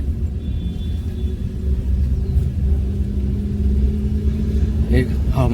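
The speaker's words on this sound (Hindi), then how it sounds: "अब हम मैनुअल गाड़ी पे चला रहे हैं।" A manual car's engine rumbles steadily while driving early in the morning, a continuous mid-pitched hum throughout with voices speaking over it.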